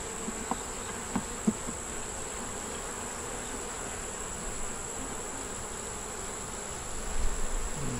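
Honey bees buzz around a hive as a faint, constant drone with a few soft bumps and thuds, and a slightly louder rustle near the end.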